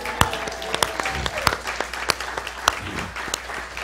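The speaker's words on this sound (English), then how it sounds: "How about a big round of applause?" A church congregation applauding, scattered and fairly sparse claps with distinct sharp individual hits over a low murmur, fairly close.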